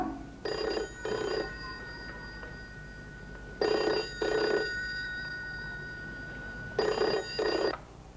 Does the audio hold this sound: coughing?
no